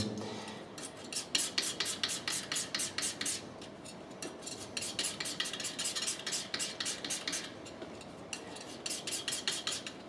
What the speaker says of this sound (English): I'm mixing my grey with the green that I've already mixed for the back